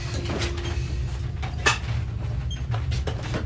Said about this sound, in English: We're opening the missile doors.